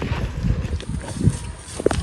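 Hooves of a horse clip-clopping in a steady walking rhythm, close and moderately loud, with a couple of sharper knocks near the end and no talk over it.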